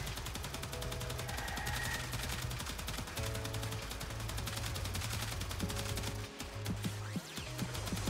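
In Warframe, the Gorgon Incarnon fires in rapid, continuous automatic bursts, a dense run of loud shots with brief pauses and shifting tones, and no voices heard.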